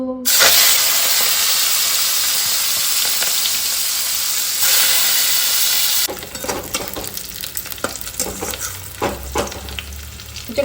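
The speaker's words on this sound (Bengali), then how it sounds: "চিংড়ি মাছগুলো ভেজে নেব" Prawns coated in salt and turmeric frying in hot oil, giving a loud, steady sizzle with a hissing spray that later drops to a softer crackle with occasional stirring noises.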